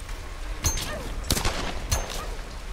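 Gunfire in Tomb Raider: Definitive Edition, three distinct sharp shots spaced evenly about two-thirds of a second apart over low ambient rumble.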